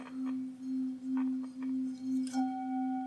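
A Tibetan singing bowl rings with a sustained, steady low hum that pulses gently in volume, joined by a brief higher ringing tone near the end, clean and close with no talking.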